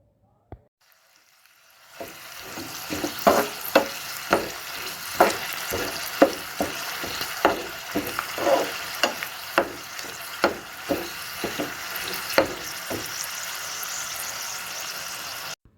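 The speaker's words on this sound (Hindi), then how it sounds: "हल्का सा फ्राई करेंगे जब तक कि हमारे तिल के ऊपर हल्का सा गोल्डन कलर ना आ जाए" Sesame seeds crackle and pop steadily in hot oil for a dhokla tempering, a dense sizzle with frequent sharp little bursts, close and continuous.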